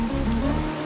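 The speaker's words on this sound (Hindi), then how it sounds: "ये बारिश है कि रुकती ही नहीं है" Steady rain falling at night, a dense even hiss of drops on surfaces filling the short moment with no voices over it.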